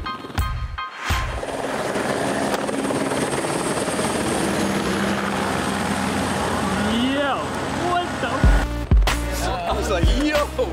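Helicopter from stunt footage for the action film Bad Boys 3, a loud steady rotor drone filling the whole stretch, mixed with film score and voices, with sharp impact bursts near the end.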